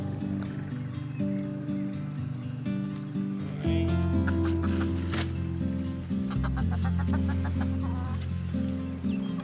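Chickens cluck and squawk close by at an off-grid cabin homestead, busy overlapping calls over a steady droning background hum, with a sharper burst of calls midway.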